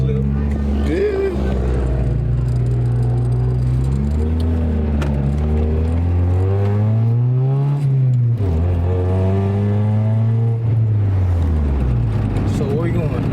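A car's exhaust revving at a car meet, the engine note rising and falling in repeated loud swells with a deep rumble and a peak around the middle, under and between people talking.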